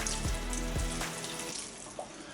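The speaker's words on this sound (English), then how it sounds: "Now I'm going to put the stock in" Stock being poured into a soup pot for cream of broccoli soup, a steady close splashing pour of liquid that trails off into a quieter trickle.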